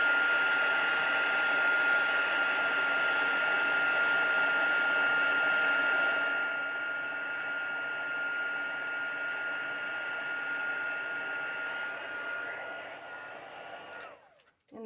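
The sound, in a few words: hair dryer drying a painted junk journal page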